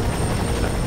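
A helicopter in the video game F.E.A.R. 3 gives a steady, dense rotor whir that holds evenly for under a second, with no talk over it.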